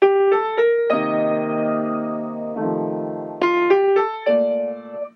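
Sustained instrument notes of a tune change in a loose, evenly spaced crotchet-triplet rhythm, a few tones held across beats; no voices.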